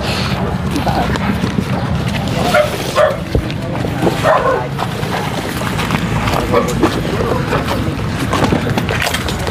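A dog barks in short bursts amid a busy outdoor scene, with people talking nearby and a steady clatter of footsteps or hoof-like clopping underneath.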